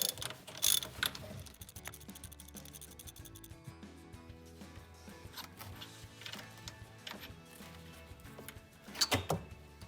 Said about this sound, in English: So this is an 11/16 socket for the gear lever.